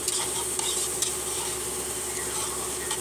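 Onion and garlic sauté in a hot wok with a steady, close sizzle and occasional light stirring scrapes, with no talk.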